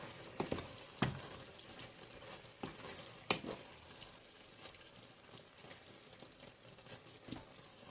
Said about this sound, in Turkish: Kırmızı toz biberimizi ekliyoruz. Güzelce karıştırıyoruz.